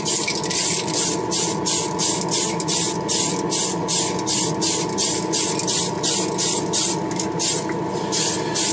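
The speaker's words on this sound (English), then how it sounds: "I'm doing spray painting in the spray booth" Primer hisses from a spray gun in short, evenly spaced bursts onto a Honda car part inside a spray booth, loud and close over a constant mechanical hum.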